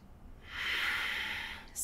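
A slow yoga exhale through the nose, a soft, close breathy rush that swells and fades over about a second, with a faint catch of breath at the end.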